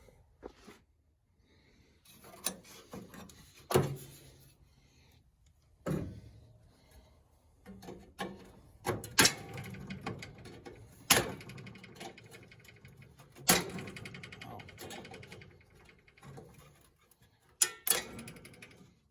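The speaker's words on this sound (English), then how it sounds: "So you pull the spring and it'll pull the headlight bucket out." Headlight bucket spring being pulled on a 1968 Chevy Bel Air during an LED headlight conversion, heard as quiet irregular metallic clicks, taps and springy snaps with pauses between, close up and without talk.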